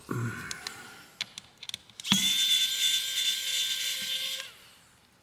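A small screw being backed out during a teardown of a Cricket Icon Plus phone, heard as a sustained close whirring of an electric screwdriver for about two seconds after a few faint clicks and taps.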